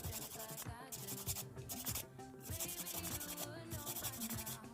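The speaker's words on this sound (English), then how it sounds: "get a buffer, smooth it all out and top coat" A buffer rubs over polygel nails to smooth them, giving close, quiet, continuous scratchy strokes with a quick back-and-forth rhythm.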